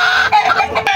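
A blue-legged rooster with a straight comb, crowing loudly and close in a brief, strained call.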